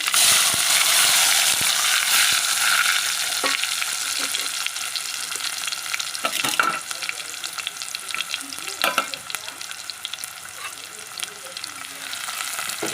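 Mustard seeds, cumin and two large chopped onions go into hot oil for a curry to serve with chapati, giving a loud crackling sizzle that settles into a softer fry with stirring clinks and scrapes close by.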